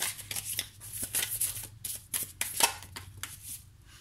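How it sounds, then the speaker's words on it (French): Tarot cards drawn from a deck and handled at close range, giving irregular soft swishes, slides and light taps across a few seconds with no voices. "On va prendre deux autres cartes."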